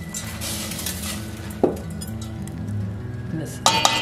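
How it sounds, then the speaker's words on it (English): One cup of brown rice goes into a pot of boiling water, with clinks of a metal pan and utensils, a sharp clatter partway through and another near the end, over a steady low kitchen rumble. "let me put in the 1 cup of brown rice"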